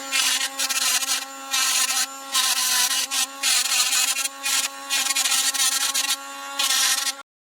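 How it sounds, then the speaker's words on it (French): Small angle grinder grinding small chamfers on parts of a Parkside Performance X20V Team jigsaw, a loud high whine in repeated bursts of about a second with brief dips between passes, close and alone. "je vais prendre la petite meuleuse et c'est pareil, je vais meuler pour faire des petits chanfreins"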